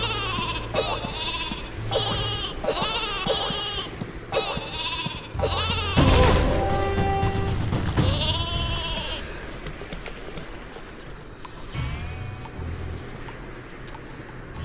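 Sheep weapon in the Worms video game: repeated bleating baa calls in quick bursts over game music and effects, then an explosion-like whoosh, loud and close.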